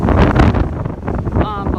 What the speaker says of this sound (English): On our way to Siller's Ball, and it is freaking windy